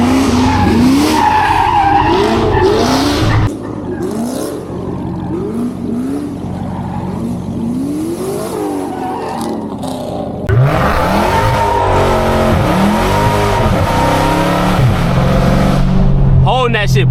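A Dodge Hellcat slides through turns with loud, sustained tire squeal over the roaring engine, the skid easing midway and then swelling again near the end; a voice is present in places.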